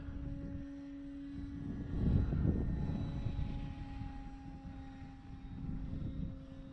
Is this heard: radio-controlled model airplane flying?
yes